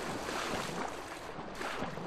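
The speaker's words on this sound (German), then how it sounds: "Wie könnte man den Wind davon abhalten, so stark zu wehen?" Strong wind blowing in the Divinity 2: Ego Draconis video game, a steady broadband rushing gust with a watery, surf-like wash, continuous and fairly loud throughout with no talking.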